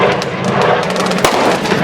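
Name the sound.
old firework banger exploding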